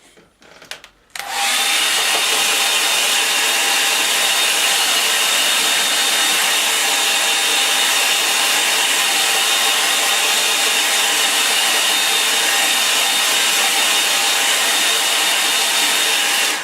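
A hair dryer blows on a watercolour line-and-wash painting. After a brief quiet moment it switches on and runs as a loud, steady, close-up whooshing roar for about fifteen seconds without a break.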